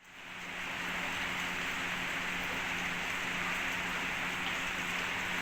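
Heavy rain pours steadily in Banjarmasin, a dense, even roar of drops on surfaces that swells in over the first half second and then holds constant and close, with no voices.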